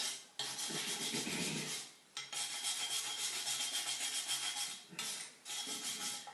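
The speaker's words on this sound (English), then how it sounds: "So now the shaft is out and we can clean it a little bit. I clean it with a steel brush." A steel wire brush scrubbing a metal shaft during an engine rebuild, close and fairly loud, in continuous bursts of harsh scratchy rubbing separated by brief pauses.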